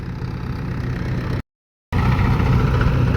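A tractor engine runs on a farm during threshing, giving a steady, throbbing mid-to-low idle that drops out completely for a moment partway through before resuming at the same level.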